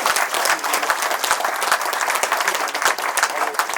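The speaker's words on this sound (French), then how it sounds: "c'est eux qu'on peut applaudir chaleureusement" A crowd at a Christmas gathering of French Foreign Legion veterans of the 2nd REI in Nîmes applauds warmly, dense sustained clapping that stays loud and steady throughout.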